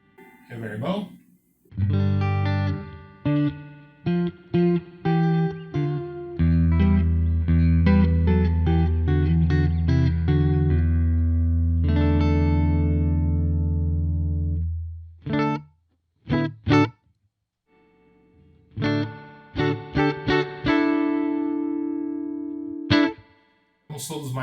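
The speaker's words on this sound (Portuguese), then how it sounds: "Reverbão." A Peavey Bandit 112 Solo Series Blue Stripe guitar amp plays distorted chords and single notes with heavy reverb, each strum ringing out and decaying into a washy tail between phrases.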